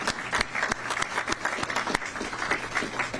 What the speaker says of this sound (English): Y'all can clap for that one.